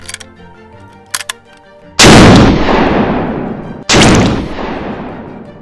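Two heavy, booming shots from a .500 Bushwhacker pistol-caliber carbine firing 350-grain polymer-tipped Raptor bullets, each a sharp blast with a long ringing decay, after a few faint clicks and taps.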